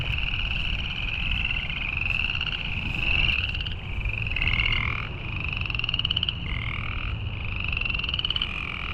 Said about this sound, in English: The frogs are going absolutely bonkers over here.